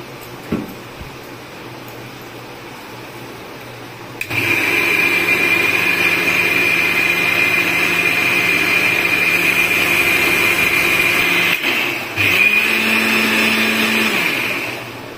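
Electric mixer-grinder blending spice paste with added water for dahi potol, starting after a few seconds of quiet into a loud, steady whirring roar that cuts out briefly and restarts, close up with no talking.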